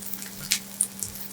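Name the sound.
rice paper seafood pancake frying in oil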